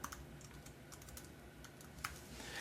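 Soft, faint typing on a computer keyboard, a run of light irregular key taps with one slightly sharper press near the end, no voices.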